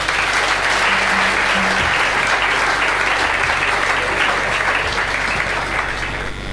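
A church congregation applauds during a public consecration of an apostle, a loud, sustained wall of clapping that holds steady throughout, with a brief low tone and murmuring beneath it.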